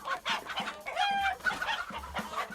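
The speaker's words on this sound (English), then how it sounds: "Chicken!" Cartoon chicken clucking sound effect from Ed, Edd n Eddy: a few quick, close, bright clucks and squawks in an irregular burst.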